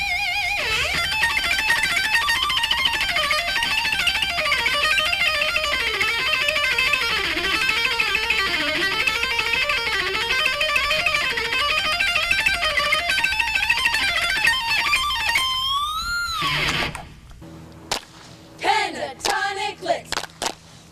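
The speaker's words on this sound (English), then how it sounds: "Let me try out with a little more distortion and the treble pickup to get that mean sound." A guitarist plays a heavily distorted electric guitar on the treble pickup, sustained singing lead notes with wide bends and vibrato, then a few sharp, choppy staccato notes separated by silence.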